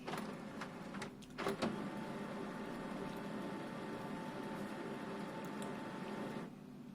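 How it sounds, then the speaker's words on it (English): Brother colour laser printer (MFC-L3710CW/L3750CDW) starting up after a belt unit replacement, a steady mechanical whir with a few clicks and clunks early on, constant hum until it cuts off near the end. "Wait for the printer to boot up."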